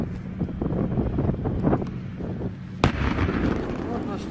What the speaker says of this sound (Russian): Вот наш танк стреляет.